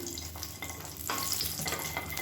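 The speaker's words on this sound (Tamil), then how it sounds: "மீடியமான ஃப்ளேமில் பொரிய விட்டுக்கோங்க" Cashews frying in ghee over a medium flame, giving a steady soft sizzle that grows a little louder partway through, with light stirring and no voices.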